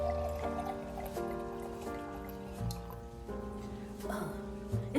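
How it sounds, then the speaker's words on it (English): Yellowtail Chardonnay wine poured into a glass, a continuous trickling stream with a rising ringing tone as the glass fills, close and fairly quiet. "So let's go ahead and pour up the glass."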